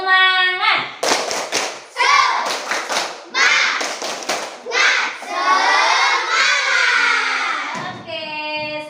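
Schoolchildren in a classroom chanting loudly in unison while clapping in short rhythmic bursts and patterns, an energetic group routine with one sustained shouted phrase near the end.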